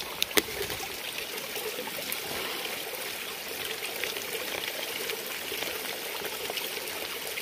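Water is squeezed from a pouch into a bottle on a snowy, cold Appalachian Trail hike, a steady close trickle and pour that runs continuously, with a couple of small clicks at the start.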